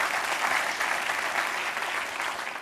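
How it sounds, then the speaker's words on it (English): An audience applauding two volunteers called up to microphones, dense continuous clapping at moderate volume, fading slightly at the end. "Round of applause for our 2 volunteers."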